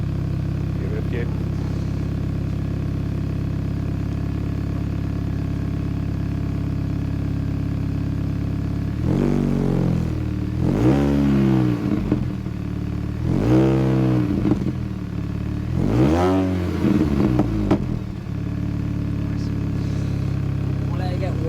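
Steady Mini engine idle through a freshly fixed exhaust, broken by four short throttle blips that rise and fall in close succession before returning to a constant warm-up rumble.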